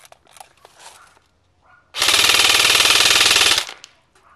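A KWA SR10 airsoft rifle fires one full-auto burst of about a second and a half, a loud, dense, rapid mechanical rattle close by that starts and stops abruptly after quiet shuffling.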